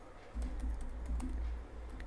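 Quick, uneven keystrokes tap on a computer keyboard at close range in a short burst of typing, with no speech.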